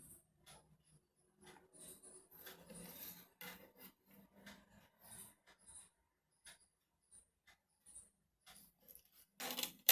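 A paper cut-out is folded along its diagonal, giving faint, intermittent rubbing, scraping and creasing sounds in a quiet room, with a sharper rustle at the end.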